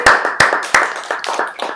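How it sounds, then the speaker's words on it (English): An audience at a live Skillshare presentation in New York applauds, sharp close claps bursting out at first and then thinning into scattered lighter claps, with no one talking. "You guys clap it up for yourselves"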